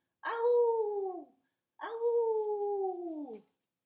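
A person imitates a wolf with two long, clear, sustained howls. Each one slides gently downward in pitch, and a short pause separates them in an otherwise quiet room.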